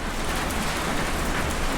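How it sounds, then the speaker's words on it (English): Heavy storm rain drums steadily on a building, a dense, constant hiss at close range with no talking. "the rain doesn't make a lot of racket in the building"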